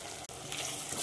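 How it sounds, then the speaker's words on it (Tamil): Onions, chilli, tomato and spice powder sauté in sesame oil with a steady, close sizzle and light stirring, one brief scrape-like dip early on, no talking. "நல்லா அந்த எண்ணெயிலே வதக்கி விட்டுட்டு"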